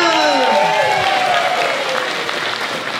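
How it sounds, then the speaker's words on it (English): Audience applause at a school talent show final, dense clapping filling the room for about three seconds, with speech-like tonal sweeps riding over it and a host's voice nearby. "Let's have one more round of applause for Rachel."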